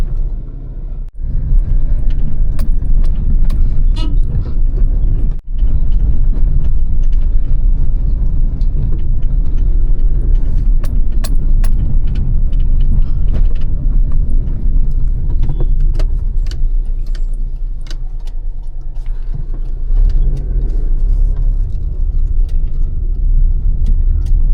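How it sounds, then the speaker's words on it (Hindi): Maruti Alto K10 reversing on a steep, narrow Shimla road: a steady, close engine drone and road rumble inside the car, holding a constant level with light rattles and clicks throughout. "एक बार ज़रा मैं यहाँ से बैक करके देखता हूँ गाड़ी।"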